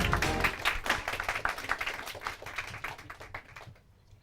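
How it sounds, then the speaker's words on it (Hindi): An audience claps for a team's score at a Hindi quiz semi-final, giving a dense, fairly faint spatter of hand claps that thins and fades out toward the end. "तालियां बजाओ।"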